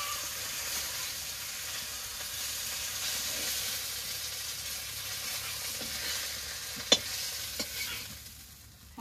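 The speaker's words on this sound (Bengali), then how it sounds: "মাছগুলো ভেজে নামিয়ে নিয়েছি।" Fish fried in oil make a soft, even sizzle with a few quick clinks of a spatula as they are stirred. The sound is close but fairly quiet and fades toward the end, with no voices.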